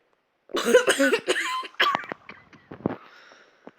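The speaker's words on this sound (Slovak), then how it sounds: "Prepáčte, že takto drsne kašlem" A harsh, rough coughing fit, close and loud, several heavy coughs in a row tapering into smaller throaty coughs.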